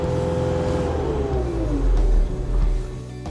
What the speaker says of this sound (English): and you'll hear the engine rev back up.